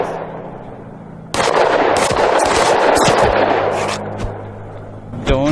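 Gunfire in the zombie video game TABZ: a sudden loud burst of rapid shots with sharp cracks, continuing in irregular volleys before tapering off.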